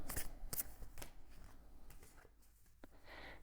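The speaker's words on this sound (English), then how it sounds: "I will shuffle again." Intuition cards being shuffled by hand, a few quick riffling bursts and soft papery slides, close and quiet with no talking.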